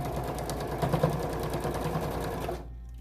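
A sewing machine runs in a fast, steady whir, stitching through fabric layered with quilt batting before stopping abruptly near the end; close and loud with no talk.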